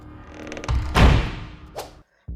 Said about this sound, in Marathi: सारिका दारात पोहोचली तेवढ्या तिच्या तोंडावर झाडकन दार बंद झालं